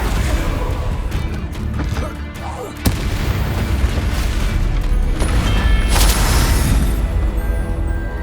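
A Bombarda blasting spell in Hogwarts Legacy bursts with a loud crashing boom and sharp impact, followed by rumbling debris and sustained explosive noise under continuous game ambience.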